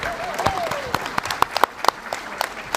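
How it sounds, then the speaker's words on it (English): Applause from a fan-celebration audience at a Comic-Con panel, with scattered sharp claps and cheers rising over a busy room and a brief whistle near the start, moderately loud for a few seconds. "Round of applause."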